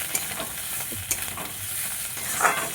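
Cabbage leaf paste sizzles and fries in a pan while a utensil stirs it steadily. Soft scraping strokes sit over a continuous hiss, close and at moderate volume, with no voices.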